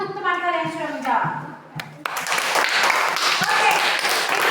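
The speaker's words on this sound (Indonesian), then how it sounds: "Tepuk tangan untuk teman kalian yang sudah menjawab" A classroom of students claps for a classmate who answered a question, starting as scattered claps after a teacher's voice and swelling into dense, steady applause that carries on to the end.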